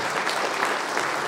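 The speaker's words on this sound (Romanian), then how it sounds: "Eu propun să și aplaudăm" An audience applauds at a celebration in Onești honouring a long-serving manager of a printing company. The clapping is steady and dense, a continuous wash of many hands at even loudness, with no talk over it.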